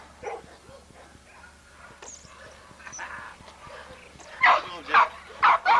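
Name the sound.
dog barking and whimpering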